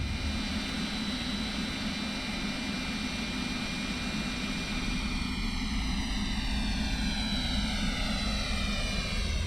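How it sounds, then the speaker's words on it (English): MD-80 airliner engines spooling up for taxi in X-Plane 11, a loud continuous turbine roar with whining tones that climb and shift midway as power increases, with no voices. "we'll just give it a little bit of power, and we'll begin our taxi to the runway"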